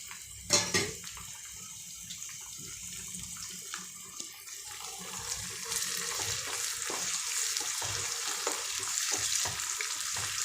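A paste of ginger, garlic, green chillies, tomato and coriander fries steadily in a pan, giving a continuous hissing sizzle with a few soft stirring knocks at a moderate close level, no talking.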